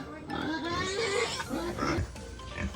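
Pigs grunting and oinking on a provincial farm in the Philippines, a steady run of close, rough grunts and squeals filling the whole moment with barnyard noise.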